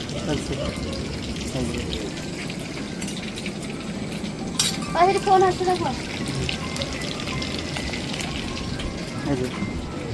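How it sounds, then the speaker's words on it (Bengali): Meat stir-frying and pakoras sizzling at a roadside cooking spot, with a steady, close frying hiss and a short burst of spoon clatter midway. Voices chat faintly in the background. "এখন মাংস কষা হচ্ছে, এই তো এই যে এখন চলছে পকোড়া"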